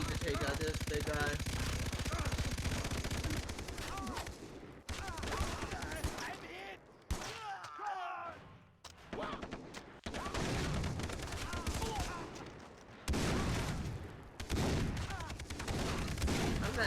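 Machine gun fire in Far Cry 3, loud sustained bursts of rapid automatic shots with heavy booms, broken by short pauses between volleys, with a voice talking over the battle.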